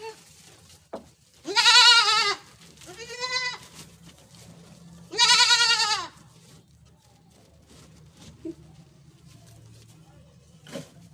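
Hungry white goats bleat loudly at feeding time, three long wavering cries close by, with soft rustling and faint clicks in the quiet gaps.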